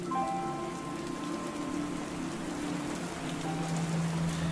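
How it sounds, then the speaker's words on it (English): Heavy rain pours down steadily, a dense, even hiss of drops striking surfaces nearby. A faint tonal hum runs underneath, and no one speaks. "It starts raining. Hard."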